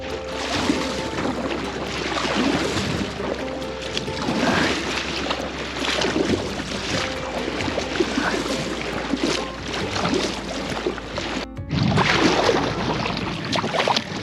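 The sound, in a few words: kayak paddling backwards on the Tejo river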